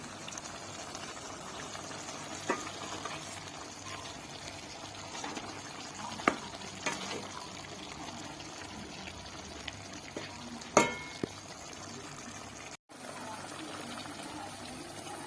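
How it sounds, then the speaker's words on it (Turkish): A pot of bulgur pilaf simmers and bubbles softly with a steady low hiss, occasional small pops and clinks breaking through the continuous background. "Burada da bulgur pilavı pişiriyorum."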